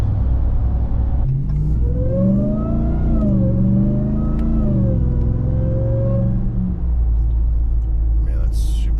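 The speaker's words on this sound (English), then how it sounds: "Man, that's supercharger, man." A supercharged Ram TRX pickup revs its engine, rising through a couple of loud, sweeping climbs with a whining tone before settling back to a deep idle rumble. The sound is close and continuous, and someone talks briefly at the end.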